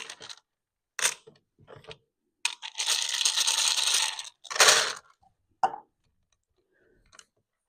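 Handful of dice tossed onto a surface for a half-life decay simulation, a few separate rattling bursts of clattering plastic followed by a longer tumbling skitter, then scattered lone taps as the last dice settle.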